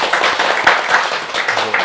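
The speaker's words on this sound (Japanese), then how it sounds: "じゃあ最後に大きな拍手を。" Audience applause closing a lecture on preserving Kiryu textile weaving, a dense wash of many hands clapping steadily for about two seconds with no talk over it.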